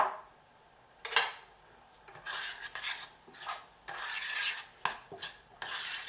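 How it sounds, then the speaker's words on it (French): A spoon stirring a pot of buckwheat curry with tomato and its juice, giving repeated scraping and clinking strokes at close range, with no voices. "Tu touilles encore."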